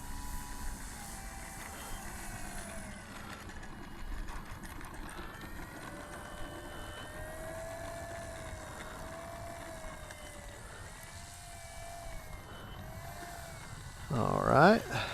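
Avios Extra NG 300 RC aerobatic airplane flying overhead, its motor whine rising and falling in pitch as it maneuvers, fairly distant and continuous, with someone talking over it.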